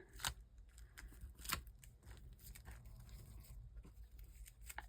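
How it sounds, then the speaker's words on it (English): Scissors trim pre-cut paper strips down from 6 inches to fit a small 5-inch fall journal, giving a few quiet, close snips with soft paper rustling between them. "So I'm gonna trim this off."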